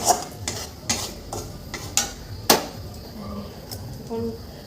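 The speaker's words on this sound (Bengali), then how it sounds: "আমার মশলা পুড়ে যাচ্ছে" Spices fry and start to burn in a pan while cooking chowmein, with a spoon repeatedly clanking against the metal pan in sharp, evenly spaced knocks over a light sizzle, close by and under occasional talk.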